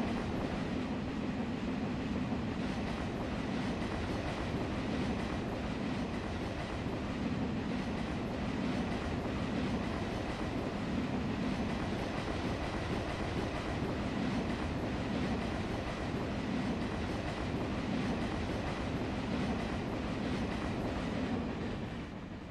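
A MEMU electric multiple unit train in Train Simulator pulls away from Raghunathapalli platform 1 on the Secunderabad–Warangal run, with continuous rolling rumble and rhythmic clickety-clack of wheels over bumpy rail, steady and unbroken.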